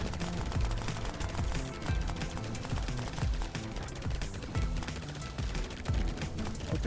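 A purple pulse cannon laser in a video game fires a rapid, continuous stream of loud pulsing shots, evenly rhythmic and dense throughout, with no talk over it.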